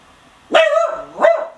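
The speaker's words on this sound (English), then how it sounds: "the dogs are gonna bark." A dog barks twice, close and loud, with a pause of about half a second between the two sharp barks in an otherwise quiet room.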